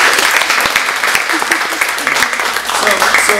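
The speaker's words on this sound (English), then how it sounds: "let's give her a round of applause" An event audience in Las Vegas gives sustained applause, with loud, dense clapping filling the room throughout and some voices mixed in.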